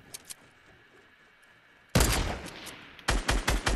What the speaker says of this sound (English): That's me shooting from behind.